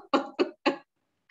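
Three short, forced coughs come in quick succession, deliberately faked rather than a real fit, followed by a brief faint sound after a pause.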